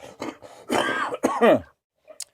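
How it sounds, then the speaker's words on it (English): A person coughs and clears their throat several times up close, rough voiced bursts followed by a short pause and one faint final hack. "I'm going to cough."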